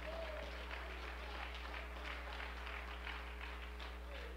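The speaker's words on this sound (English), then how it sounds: "Clap your hands, all you people." A congregation claps together, a dense steady patter of many hands filling a large room, with a low steady hum underneath.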